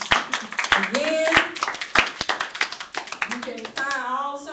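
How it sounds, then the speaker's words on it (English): Scattered hand claps from a church congregation praising during a service, sharp irregular claps mixed with voices and vocal sounds, some people talking over them. "Somebody give God a hand clap of praise."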